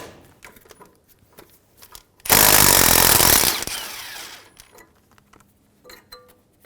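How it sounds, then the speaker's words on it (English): A 12mm socket on a power tool zips out the brake line bracket bolt on a 2003-2008 Honda Pilot front suspension, one loud buzzing burst of about a second and a half that trails off, with faint shop clatter before and after. "Using a 12mm socket, remove the bolt for the brake line bracket."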